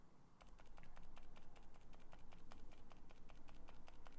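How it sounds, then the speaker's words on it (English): Rapid, steady typing on a mechanical keyboard fitted with Durock Dolphin silent switches in stock form with light factory lube, producing soft, muffled key presses in a quick even rhythm, close and quiet. "I'm pressing these keys as hard as I press the reds. They're much, much more quieter."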